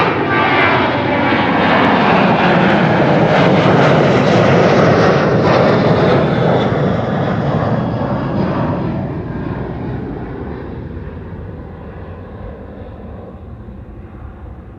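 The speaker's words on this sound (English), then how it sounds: "This is KLM flight 1953 to Athens." KLM airliner on Flight 1953 to Athens taking off at Amsterdam Schiphol, a loud, broad engine roar that builds, peaks, then steadily fades as the aircraft climbs away.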